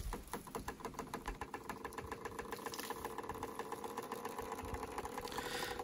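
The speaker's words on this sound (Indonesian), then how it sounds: "suara yang terdengar dari kincir ini yaitu hasil dari gesekan antara sumbu kincir dengan asnya" Bamboo water wheel turning without bearings, its axle rubbing against the support, gives a steady, regular knocking creak repeating several times per second, moderately close over a constant background.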